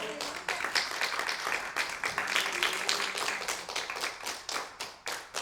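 A church congregation claps for the Lord in a steady, dense burst of applause that carries on for several seconds, loud and close, with no talk over it.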